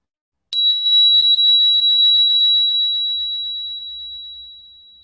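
A single bright bell chime is struck once and rings out with a long, pure, slowly fading tone, loud and close, with nothing else around it.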